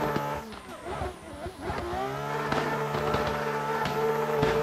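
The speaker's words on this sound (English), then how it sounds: "All the bags and pops from this M4" Harsh racing-game engine of a BMW M4 revving hard on a track, with sharp exhaust pops and bangs crackling over the loud, continuous drone.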